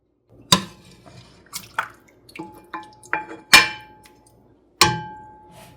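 Dishes and utensils clink and clatter as yakhni soup is served for lunch: a series of sharp ringing knocks and scrapes, some loud and close, separated by short quiet gaps.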